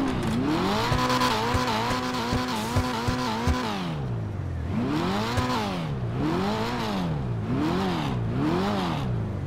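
A tuner car from GTA Online's Tuners update revs hard in-game, its engine note sweeping up and down through repeated gear changes, loud and close, with tire squeal mixed in and no talk over it.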